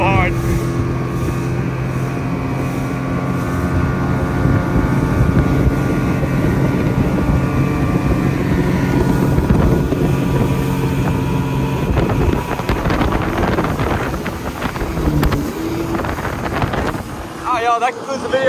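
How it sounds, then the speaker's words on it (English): Two river boats racing, a Cajun Special with a 115 horsepower outboard against an Alumacraft with a 75, a loud sustained droning motor whine under heavy wind buffeting, close and continuous. "the Alumacraft versus the Cajun Special, 115 versus 75 horsepower"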